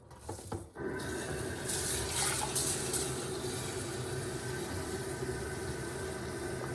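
Steady running tap water pouring into a kitchen sink while food is washed, a continuous close splashing rush that holds evenly after a brief start, with no talking.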